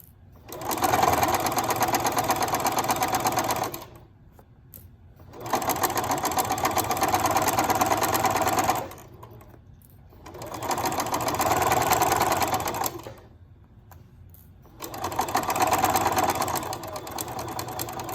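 A sewing machine stitches fabric strips for a striped pillow, running in four long, steady whirring bursts separated by short pauses, close and clear.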